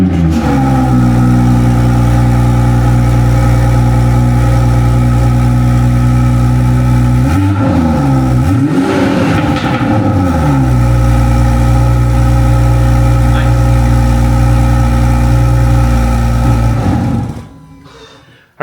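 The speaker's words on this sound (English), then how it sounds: "we did do the GTS startup roar, so I'm just gonna go ahead and turn the car on" A tuned BMW F30 340i with a B58 engine fires up with a loud roar, then settles into a steady, throbbing idle for most of the stretch, with a second rev swell partway through before the sound cuts off near the end.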